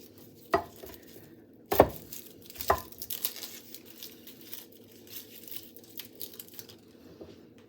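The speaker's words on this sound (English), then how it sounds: "now we're just going to chop these cloves quite crudely" Knife chopping garlic cloves coarsely on a board while making curry sauce: a few sharp, separated chops, loudest near the start, then lighter scattered cutting and handling noises at close range with no talking.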